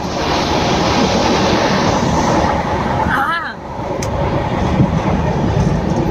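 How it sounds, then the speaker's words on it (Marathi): A moving train makes a loud, continuous low rumble and rattle from close by, with wind buffeting the microphone and a brief dip midway. "खूप टायमानंतर आमची ट्रेन आली."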